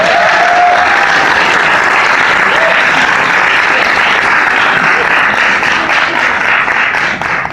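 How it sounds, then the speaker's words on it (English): Loud applause from a crowd after a Tesla coil guitar performance, thick sustained clapping close by that begins to thin out toward the end. "So I think he deserves another round of applause."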